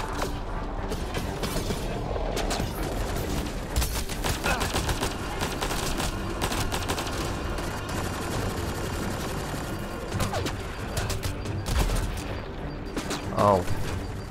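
Rapid sharp cracks of sniper rifle fire and other weapon shots in a Mass Effect: Andromeda firefight come in dense, repeated bursts with mechanical clatter, loud and continuous, while someone talks at times.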